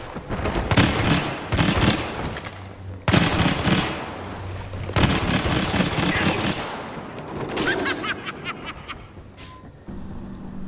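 Rapid bursts of automatic gunfire from the video game Battlefront come in several dense, loud volleys, with brief breaks between them and scattered metallic game effects near the end.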